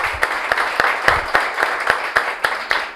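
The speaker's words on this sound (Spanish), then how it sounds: "un aplauso para ellos" A small audience at a hair-care product event claps for first-time attendees, with distinct, fairly regular claps rising over a softer applause bed.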